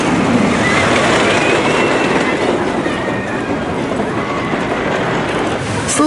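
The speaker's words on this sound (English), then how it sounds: "Slowly making its way around here is the Lagoon steam train." Lagoon steam train rolling past at an amusement park, a steady broad rumble with rhythmic rail clatter and faint wheel squeal, fairly close and continuous throughout.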